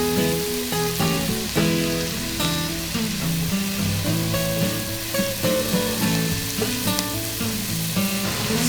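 Leeks and onions sizzle in butter in a pot for a potato and leek soup, giving a continuous close frying crackle with light stirring clinks and pops throughout.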